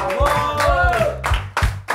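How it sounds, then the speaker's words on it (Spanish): A film crew claps together on set, several loud, uneven claps over about two seconds with voices chattering between them. "Y aplaudamos porque está hecha."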